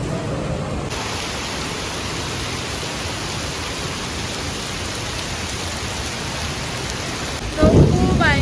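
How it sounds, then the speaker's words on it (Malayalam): Heavy rain pours steadily in a dense, loud hiss on a street in Little India, Singapore, with a low thunder rumble and a brief voice near the end. "ഭയങ്കര മഴ, ഇടിയെല്ലാം മുട്ടുന്നുണ്ട്."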